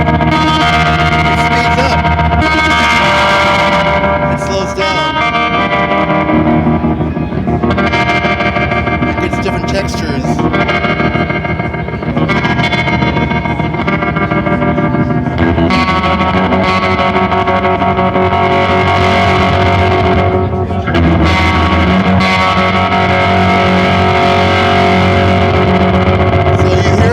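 A heavily fuzzed guitar runs through a Catalinbread Antichthon fuzz tremolo pedal, its pulsing tremolo speeding up and slowing down in a loud, continuous, distorted wash with no talking.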